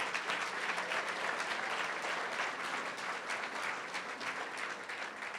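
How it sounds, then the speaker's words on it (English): Dense, steady audience applause at a ribbon cutting ceremony for a community center grand opening, many hands clapping evenly throughout without a break. "If we can give them a round of applause."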